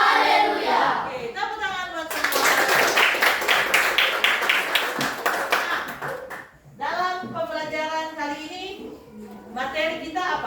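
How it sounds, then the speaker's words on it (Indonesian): Children in a classroom clap their hands together in a dense burst of claps lasting a few seconds, set between stretches of someone talking before and after. "Oke, tepuk tangan buat semua"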